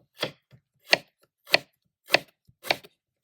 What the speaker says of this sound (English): And we're going to take it and chop it up and make an herbal oil.